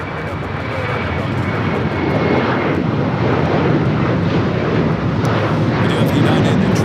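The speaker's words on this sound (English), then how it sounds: "we do have ANA 125 about to start rolling on the north" An ANA passenger jet takes off on runway 25 right at LAX, its engine roar loud and broad, swelling steadily as the plane rolls, with no talking.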